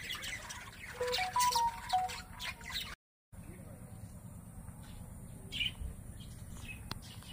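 Colourful birds at Barsati Tourist Park in Gopalnagar, a park full of mango trees, chirping and calling in bright bursts, loudest at the start, with a brief dropout and voices murmuring in the background.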